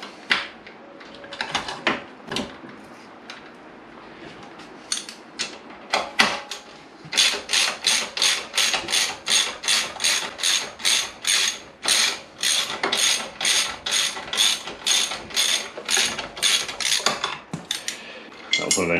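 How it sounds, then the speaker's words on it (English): A hand ratchet backs out 14mm-headed bolts from the side stand of a 1998 Kawasaki ZX9R, giving a scattered start of clicks and then a long run of rapid, evenly spaced ratchet bursts, close up and crisp. "It had to come out with a ratchet all the way."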